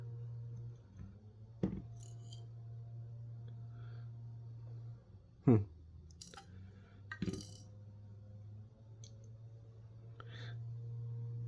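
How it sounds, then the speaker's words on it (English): Broken plastic pieces rattling loosely inside a lightning-damaged power supply: a few sparse, faint clicks and clinks, each brief and separate, over a steady low hum. "Those broken plastic pieces rattling around."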